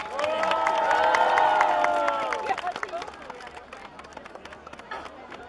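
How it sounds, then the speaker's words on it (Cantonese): Audience at a concert clapping and cheering, a loud swell of crowd noise with voices rising over it, then fading into scattered claps and chatter. "烈俾啲掌聲佢哋"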